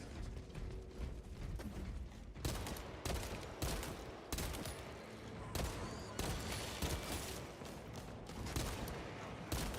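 Dense, continuous gunfire and mechanical clatter from a combat scene in the video game Warhammer 40,000: Space Marine 2, loud and relentless with repeated bursts and clanking throughout.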